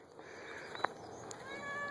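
One short, faint meow from a cat outdoors beside a backyard garden area in spring, heard over a steady background hiss.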